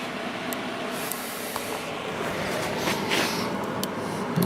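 A 6,300 BTU Emerson Quiet Cool window air conditioner starting up, giving a steady airy hiss and whoosh that holds even and close, with faint clicks at the start.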